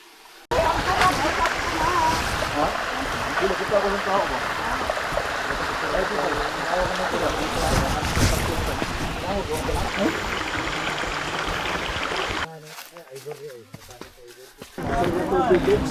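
Flowing water of a mountain stream on a day hike, a steady rushing wash that fills the scene before cutting out near the end, with people talking over it.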